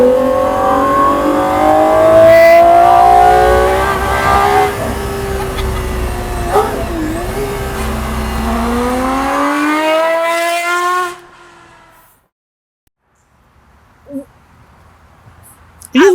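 A Gordon Murray Automotive T.50 accelerates hard in fourth gear from about 30 mph, its engine note rising in a loud, sustained howl heard from inside the car before cutting off abruptly into near silence.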